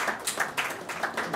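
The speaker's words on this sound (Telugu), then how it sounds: "ఇంకేం లేదు, మీరు చప్పట్లు కొట్టారు కదా." Audience at a Telugu poetry book launch claps in a short burst of several scattered, fairly close hand claps, with no voices over it.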